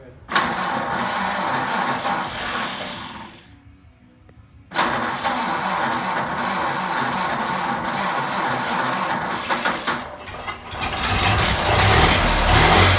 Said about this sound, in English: And this is my first start.